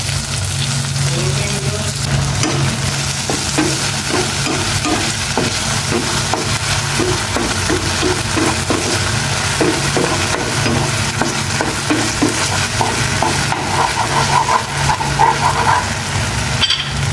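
Tilapia frying in a pan with oyster sauce, a steady broadband sizzle and crackle running continuously and fairly loud, with scattered pops and stirring clatter throughout.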